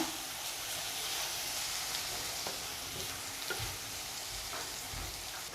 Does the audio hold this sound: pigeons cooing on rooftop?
no